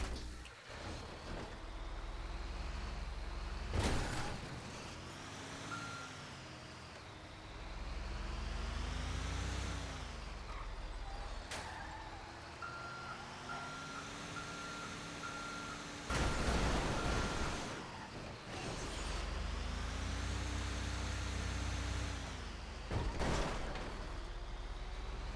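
A truck's engine in the GTA V video game drones and shifts pitch in long rising and falling sweeps, broken by several sharp bursts of noise, with no voices over it.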